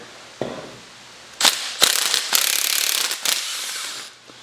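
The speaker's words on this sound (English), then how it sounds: "We'll go ahead and use the impact here." An impact wrench loosens the 19 mm fork cap on a Yamaha YZ125 during a fork rebuild, firing several loud, close, rattling hammer bursts over about three seconds after a brief mechanical clunk.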